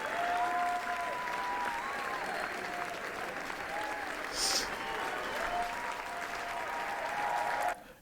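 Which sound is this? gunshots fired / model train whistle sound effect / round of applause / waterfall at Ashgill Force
round of applause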